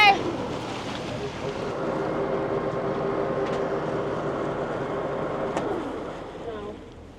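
A classic sailing yacht motors slowly up to a fuel dock, with a steady low engine drone, water and wind noise, and a few brief knocks near the end.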